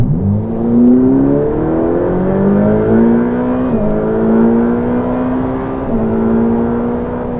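A Ferrari F8 Tributo's 720-horsepower twin-turbo engine pulls hard under acceleration, its rising drone stepping through gear changes at about 4 and 6 seconds, loud and close throughout with no talking.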